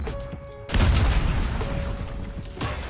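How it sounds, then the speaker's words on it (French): A stun grenade goes off in Call of Duty: Modern Warfare on PC, with a sudden heavy boom and a rumbling, ringing tail over the game's background hum. "Grenade paralysante lancée."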